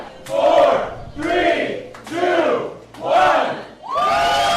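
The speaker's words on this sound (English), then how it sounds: "That was a crowd of people at Union Bar in Seattle, counting down to midnight when the state officially reopened" Crowd of people at Union Bar in Seattle counting down to midnight together on the night the state reopened, with loud rhythmic group shouts, one per beat, about one second apart.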